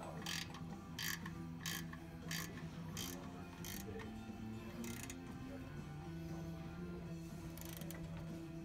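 Ratchet clicking in repeated short bursts while tightening flex plate bolts in a star pattern during an AOD transmission install on a 1973 Mustang, over steady low workshop hum.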